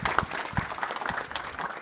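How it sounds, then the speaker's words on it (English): An audience at a developer panel for Respawn Entertainment breaks into steady, dense applause, a continuous wash of clapping from a sizable crowd. "Can we have an applause, everyone?"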